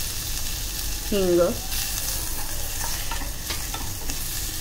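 Spices tempering in a little hot oil sizzle steadily, a constant crackling hiss, with a short metallic scrape of a utensil early on.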